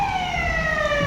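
A paramedic vehicle's siren sounds a steady, slowly falling electronic wail, moderately loud and alone over faint road noise.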